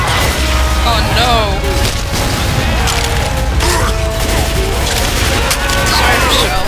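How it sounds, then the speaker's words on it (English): Pipe bomb blast in Left 4 Dead 2 amid frantic zombie combat, a dense loud wash of booms, crashes and gunfire with shouting voices over the chaos. "Pipe bomb out!"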